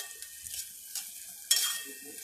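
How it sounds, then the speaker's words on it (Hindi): Onions sautéing in a pan toward golden brown give a soft sizzle, broken by a few spatula stirs and scrapes, the last one louder, heard up close and fairly quiet. "प्याज को आपको अच्छी तरह भून के लेने का"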